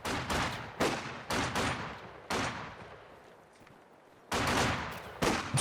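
Machine gun bursts in Company of Heroes 2 crackle in short, loud volleys with brief pauses, one longer lull mid-way before the firing picks up again.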